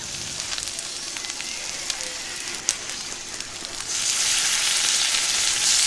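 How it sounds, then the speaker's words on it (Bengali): Garlic paste and ginger paste frying in a pan for a Bengali fish dish, a steady crackling sizzle that grows louder and fuller toward the end. "রসুন বাটা দিয়ে দিলাম 1 চামচ, আদা বাটা 1 চামচ। মশলাটা ভালো করে ভেজে নেব।"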